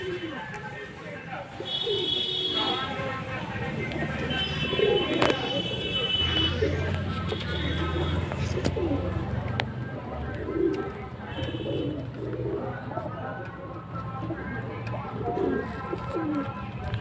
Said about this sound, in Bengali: সব পায়রা এদিকে ঘোরাঘুরি করছে